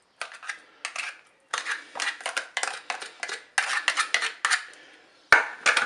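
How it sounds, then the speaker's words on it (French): Mackerel fillets and potatoes tipped into a salad bowl with a mustard sauce, a close, busy run of clattering, scraping utensil and dish clinks in uneven bursts, with no talking. "Je vais mettre les maquereaux dans le saladier."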